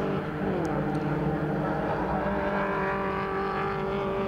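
BMW Compact Cup race cars lapping Snetterton circuit, a sustained droning engine roar heard at a steady distance with a slowly shifting pitch.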